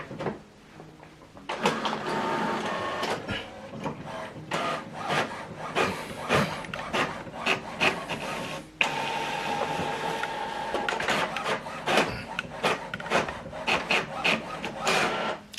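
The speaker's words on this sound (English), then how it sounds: "Now this document is printing." An HP printer runs a double-sided print job, giving a close series of rhythmic mechanical whirs, rasps and clunks as paper feeds through. No one speaks.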